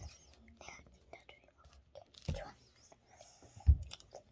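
Someone eating a Kinder Joy chocolate treat: soft, close chewing and a few small crunchy bites, partly under quiet whispered talk.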